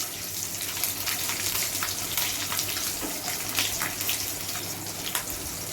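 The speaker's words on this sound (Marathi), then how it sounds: "तेलामध्ये जिरं तळलं की त्यामध्ये लसूण आणि हिरव्या मिरच्या आपण छान परतून घेणार आहे" Garlic and green chillies sautéing in hot oil with cumin, a steady bright crackling sizzle with scattered pops running continuously at moderate level, no voices.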